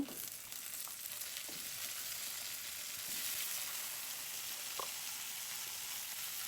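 Onions frying in a pan, a soft, steady sizzle with a few faint stirring knocks, quiet and close, no talking.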